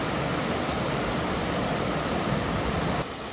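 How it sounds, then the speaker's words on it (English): Steady roar of a waterfall along a hiking trail in Glacier National Park, a broad, unbroken rush of falling water that stays loud and even, easing slightly in the final moment. "Another waterfall."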